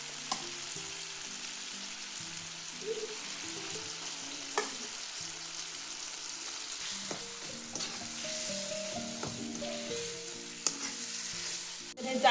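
Green chillies and crushed tomatoes fry in a pan over a stove, making a constant close sizzle with occasional stirring clicks. A faint melodic tone plays underneath, and no one speaks.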